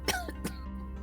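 A person coughs twice in quick succession, short, sharp bursts close to the microphone, followed by a faint throat-clearing tail in a quiet room.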